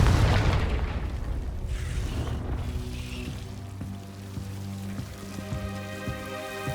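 A Confringo fire spell bursts in the Hogwarts Legacy video game: a heavy, rumbling boom at the start that rolls off into a sustained fiery roar, fading under lingering tonal game ambience.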